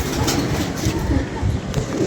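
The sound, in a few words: pigeons cooing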